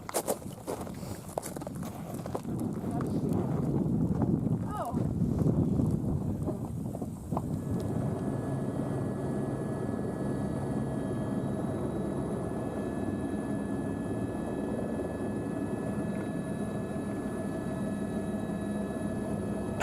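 Helicopter returning to a glacier near Skagway, with a steady broadband rotor and engine roar under wind that rises over the first seven seconds and then settles into a sustained drone with a faint whine.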